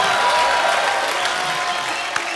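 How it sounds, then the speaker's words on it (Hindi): Loud applause from a television comedy show studio audience fills the space, a dense crowd clapping steadily throughout with a few sharper claps standing out near the end. "जोरदार तालियां"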